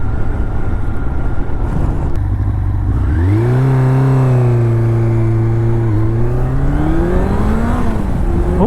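A 1984 Honda CB700SC Nighthawk S motorcycle engine revs up and holds a rising, sustained drone, pitch climbing then settling and swelling again under heavy wind buffeting on the microphone while riding.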